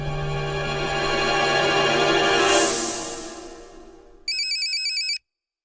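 An electronic phone ringtone chirps in short repeated bursts for about a second, right after a swelling musical sting fades out, in a Hindi action film.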